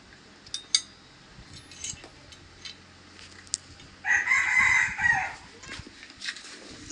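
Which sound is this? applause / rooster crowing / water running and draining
rooster crowing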